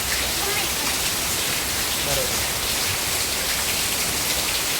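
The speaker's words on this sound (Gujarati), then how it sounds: "અત્યારથી ભારે વરસાદ છે" Heavy rain pours down in a dense, unbroken roar of drops hitting surfaces, loud and constant, with a voice briefly speaking over it.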